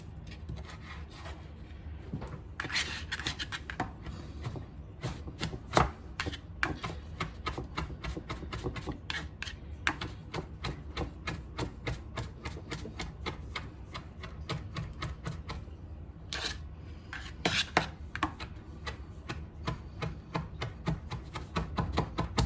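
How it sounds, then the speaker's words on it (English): A kitchen knife minces steamed dill on a cutting board in a long run of quick, even taps. The chopping is fairly quiet, close and steady, with only a few brief pauses. "I've never steamed and minced dill before"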